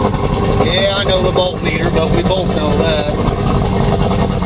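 A Mako 224 boat engine idles with a steady, loud drone and faint tonal whine, while someone talks close by over the running motor.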